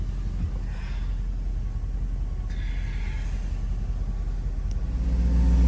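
A 1989 Mercedes 560 SEC W126 coupe's V8 idles through a subtle exhaust on a cold January day, giving a steady, deep, low burble at a moderate, unobtrusive level, rising slightly at the end.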